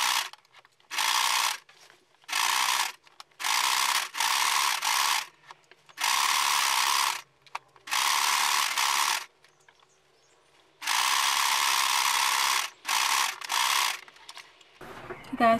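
A sewing machine stitches a maxi dress seam in repeated bursts of fast, whirring needle action, close and clear, separated by short quiet pauses.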